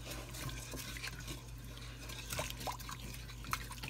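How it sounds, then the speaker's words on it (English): Whole-milk broccoli soup being stirred in a pot, with soft liquid sloshing and faint scraping along the bottom, steady and close with a few small clinks, no talking. "So I'll keep stirring this and making sure nothing sticks to the bottom, because this is a whole milk."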